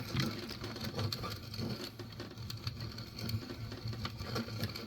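A hand grinder cranks a backyard plant into powdery flour, giving a steady mechanical whirring and rasping with regular rhythmic pulses, close and moderately quiet, with no talking.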